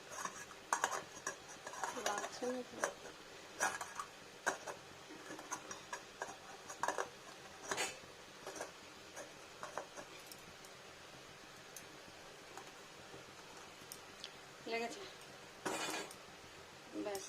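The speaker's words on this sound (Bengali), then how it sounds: "এবার এটাকে একটা থালা ঢেকে দেবো আমি থালার ঢাকাটা চেঞ্জ করে দিলাম" A metal plate set over a steel tiffin box holding steamed hilsa fish, making a few faint, scattered metallic clinks and taps against a quiet kitchen background.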